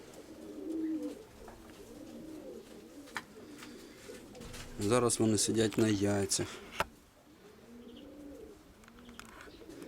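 Pigeons coo in soft rolling phrases close by, a nesting pair among them, while someone talks over part of it and a burst of brighter calls rises in the middle.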